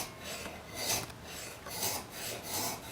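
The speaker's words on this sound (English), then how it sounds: "I've got a little thin file here that will straighten up that mouth" A thin metal file rasps across the mouth of a spokeshave in a few slow, even strokes, close-up and fairly quiet, with no voices.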